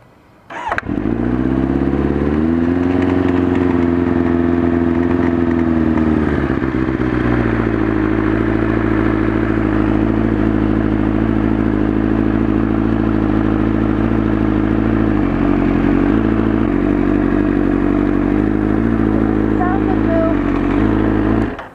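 A motorcycle engine that is having trouble, after water has been spraying out of it, idles loud and steady and close by for the whole stretch, with a clattering rumble and small shifts in pitch.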